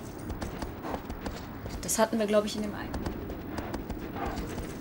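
Hooves of a horse clip-clopping in Shadow of the Colossus, a steady rhythm running throughout under continuous conversational talk and game sounds.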